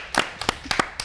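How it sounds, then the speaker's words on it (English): Audience applause at a panel introduction, heard as several short bursts of clapping spread across a second, moderately loud with brief gaps between them. "You may applaud."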